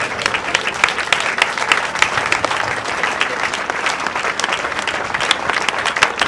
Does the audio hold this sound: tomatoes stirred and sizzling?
no